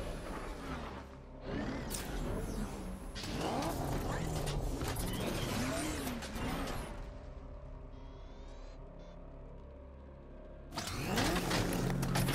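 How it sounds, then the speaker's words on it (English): In Batman: Arkham Knight, the Arkham Knight's vehicle swerves and crashes: a loud, sustained engine roar with grinding, rumbling mechanical noise and sudden bursts near the start and the end. "The Arkham Knight's vehicle swerved and crashed up ahead."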